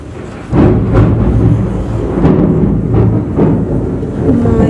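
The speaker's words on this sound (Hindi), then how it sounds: "बारिश हो रहा है ना, बादल के गरजने की आवाज़ सुनाई दे रहा होगा" Thunder rumbles during rain, low rolling booms swelling and fading over several seconds, fairly loud and close, with no speech.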